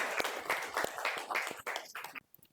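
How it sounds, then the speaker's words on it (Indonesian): A classroom group applauds a student for a correct answer, with brief uneven clapping that fades out near the end. "Tepuk tangan untuk Mbak Nia ya."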